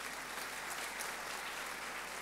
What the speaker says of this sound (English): Clap for Nana Council Chair for me